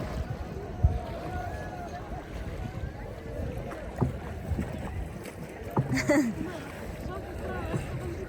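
A wooden rowboat on Phewa Lake, with splashes and knocks of oars in the water, wind buffeting the microphone and people talking over the rowing.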